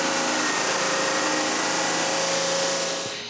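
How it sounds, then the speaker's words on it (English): A power sander works steadily across a piece of cherry wood, its broadband whine holding constant and loud for a few seconds before tapering off near the end. "Then I sand it straight on both faces."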